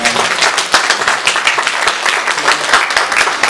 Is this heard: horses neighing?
no